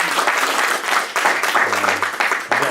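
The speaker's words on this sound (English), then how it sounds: "let's give one more round of applause for Adam" Audience applause at the close of a talk, a steady dense wash of clapping that carries through the whole stretch, close and fairly loud, with a faint voice briefly underneath near the end.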